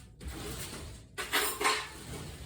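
A fork is pulled from a pile of metal cutlery in a kitchen, making a short rattling clatter of clinking utensils, two quick bright bursts close by.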